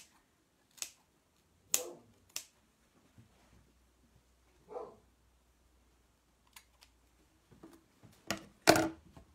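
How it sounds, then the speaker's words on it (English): Material for a Santa bottle top being cut: a handful of crisp, close snips spaced out over several seconds, then a quicker cluster near the end, in an otherwise quiet room with no talking. "So let's cut that"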